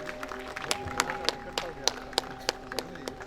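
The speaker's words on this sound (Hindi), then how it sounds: "कृपया ताली से हमारे अतिथि को स्वागत कीजिए" A small audience at a cultural evening claps to welcome guests: scattered, sparse applause with distinct individual claps at an uneven rhythm, near and moderately loud.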